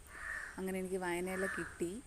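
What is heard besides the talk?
crow cawing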